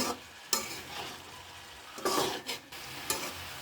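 Sliced potatoes and flat beans fried in a pan are turned with a utensil, giving a soft background sizzle broken by a few brisk scraping strokes, close up and without talk.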